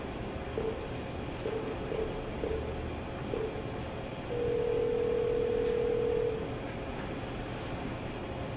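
A telephone line tone sounds while a caller is connected to the main phone during a council committee meeting, with a few brief beeps and then a steady tone about two seconds long, faint over a constant hiss.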